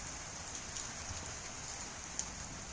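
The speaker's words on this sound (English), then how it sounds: "Yeah, a lot of rain." Heavy rain falls on farmland before the wheat harvest, a steady dense hiss of drops with a few sharper close spatters and no talk.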